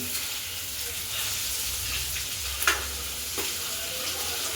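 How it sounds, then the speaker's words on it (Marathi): Brinjal pieces sizzle steadily in hot oil, a continuous close frying hiss with a few sharp scraping clicks as they are stirred and turned in the pan, no voices present. "एक दोन मिनटं छान असे परतवून घ्यायचे आपल्याला वांगे मस्त तेलामध्ये"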